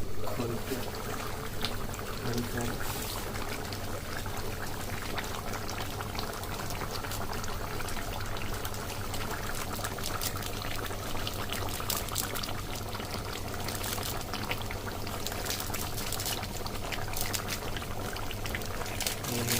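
Water pours steadily into a pot, a continuous splashing, gurgling rush that lasts the whole stretch without pause.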